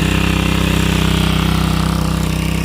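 A steady, loud motor drone with a constant low hum and regular pulsing, running continuously without pause, a motor pump lifting canal water into a tank on a farm.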